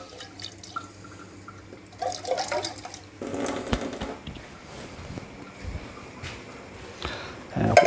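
Water splashes into an emptied tomato can to rinse it out in a home kitchen while cooking a Ghanaian stew, with close sloshing and dripping, then louder splashing and clinks of the can.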